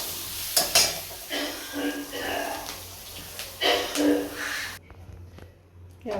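Onion sautés in a pan with a little sugar, sizzling loudly in uneven bursts with clattering stirring, then dropping abruptly to near silence.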